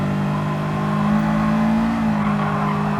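Honda S2000 engine in Gran Turismo 7 on the Grand Valley Highway, a loud, steady high-pitched engine drone with a tonal whine holding close while downshifting under braking, slight tire noise underneath.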